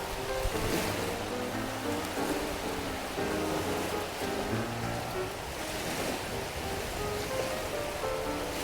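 Sea waves wash gently onto the shore at Eski Foça on the Turkish coast, with a steady close hiss and swash of water and some wind buffeting the microphone, and no talking.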